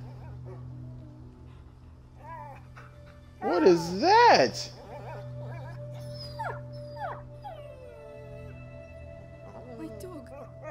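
A dog whimpers and howls in the video game A Plague Tale: Innocence, a loud wavering howl followed by fainter yips and whines over a low ambient hum, with someone talking now and then.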